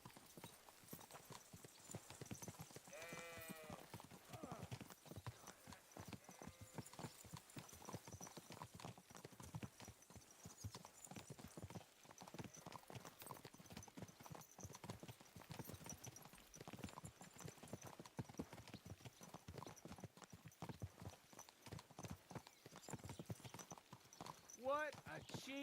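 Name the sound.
horse hooves clip-clopping in video game Kingdom Come Deliverance 2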